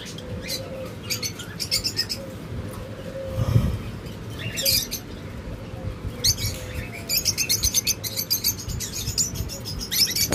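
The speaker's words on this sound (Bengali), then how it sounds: "এখানে বেশ কিছু নিউ এডাল লাভবার্ড রয়েছে" New adult lovebirds chirp and tweet in a busy chorus of rapid, bright calls, with a brief flutter or thump partway through.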